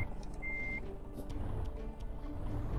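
Reversing beeps from a truck coupling a trailer in Euro Truck Simulator 2, a single steady tone amid a low engine rumble, with faint clicks and no talk.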